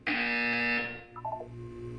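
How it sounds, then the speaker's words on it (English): A loud electronic buzzer in the video game Portal 2 sounds for about a second, a steady harsh tone that cuts off and leaves quiet room hum with a brief fainter blip of tones. "You will hear a buzzer."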